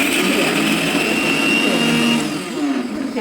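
A mixer grinder whirs steadily, coarsely crushing chillies, garlic and curry leaves, a loud continuous motor drone that dips briefly near the end, with no talking.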